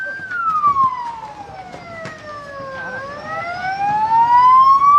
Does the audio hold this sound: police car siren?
yes